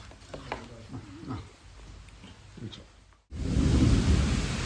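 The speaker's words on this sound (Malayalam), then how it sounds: "ഞങ്ങളുടെ പെരയ്ക്കകത്തേക്ക് മഴ പെയ്ത് വെള്ളം അരച്ചു കയറുന്നത് കേട്ടോ." Quiet talking and faint movement, then a sudden loud burst of heavy rain and rushing water flowing into a house, continuing steadily to the end.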